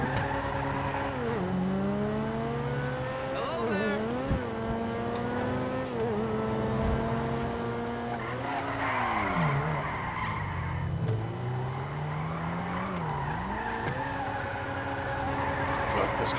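Car in the GTA Online video game drifting around corners, engine revving and tires skidding in long rising and falling sweeps, loud and close throughout.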